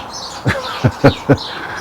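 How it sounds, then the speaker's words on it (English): Birds chirp outdoors in the morning, sounding agitated as if squabbling; four short, sharp calls ring out close by in an uneven rhythm against quiet background hiss. "The birds are at it this morning. Looks like they're fighting."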